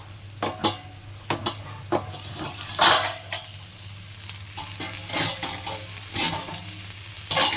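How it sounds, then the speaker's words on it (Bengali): Slices of bitter gourd shallow-fry in a little oil in a pan, sizzling steadily with repeated stirring scrapes and clinks against the pan throughout. "এদিকে আলু উচ্ছে ভাজা বসিয়েছি উচ্ছেটা ভাজতে দিয়েছি"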